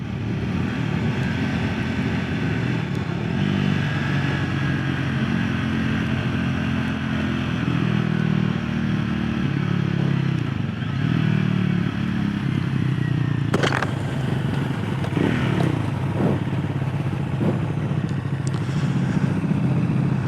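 A 2025 Triumph Scrambler 400X motorcycle engine drones steadily while riding, with a sharper clatter and shifting engine tone partway through, loud and continuous with wind rush.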